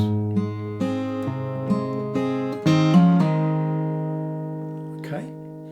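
Acoustic guitar plays a short bar of picked notes and strums, clear and close, with ringing strings sustaining to a soft final pluck.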